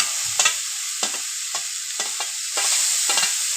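Onion paste frying in a pan for a spicy tilapia fish curry, with a constant bright sizzle and about seven evenly spaced scraping stirs of a spatula, close up and without voices.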